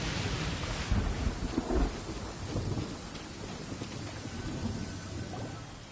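Rain and thunder in Genshin Impact: a steady hiss of rainfall with low rolling thunder rumbles swelling early on, then settling into continuous downpour, no voices.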